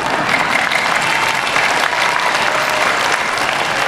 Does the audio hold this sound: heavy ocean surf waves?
no